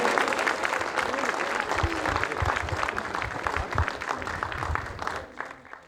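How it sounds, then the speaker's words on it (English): Sustained audience applause fills a hall at the Macfest 2020 opening ceremony, a thick continuous roar of clapping that holds steady for most of the six seconds before tapering off at the end, with some crowd voices mixed in. "Let's give him another round of applause"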